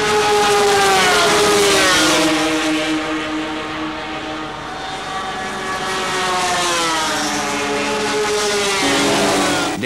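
Racing motorcycles, 1970s machines, screaming around the banked Daytona oval at high speed, loud continuous engine howl with rising and falling pitch as bikes pass, dense and sustained throughout.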